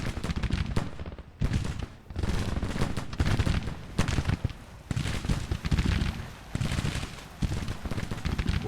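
Massed musket volleys from Civil War soldiers in the strategy game Grand Tactician: The Civil War, a dense, continuous crackle of fusillade rolling on with brief lulls, heard at a distance with no talk over it.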